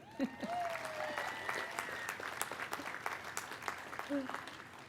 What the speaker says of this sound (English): And we can recognize her one more time with our applause.